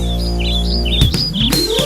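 Quick, high bird chirps trill in short repeated bursts over a sustained musical backing in a children's song, loud and close.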